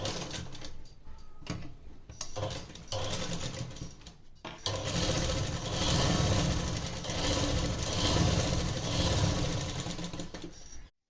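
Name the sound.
sewing machine stitching a seam on trousers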